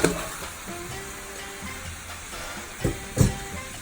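Pork meat for a Puerto Rican pasteles filling sizzles in a pot, a steady bright frying hiss, with a couple of louder clanks and stirs near the end.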